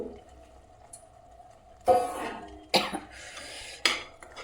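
Soaked potatoes are tipped from water into a cooking pan for ghiya bhurji, giving three separate splashy, sizzling bursts, each fading quickly, over a quiet kitchen background.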